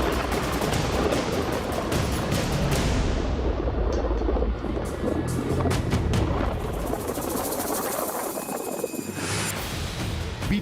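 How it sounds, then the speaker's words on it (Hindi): Rockets, bombs and missiles exploding over Gaza during an Israeli bombardment at night: a loud, dense wall of rumbling blasts and crackling bursts that continues unbroken, with sharper impacts standing out near the middle and end. "आसमान से बरसते रॉकेट, बम और मिसाइलों का शोर"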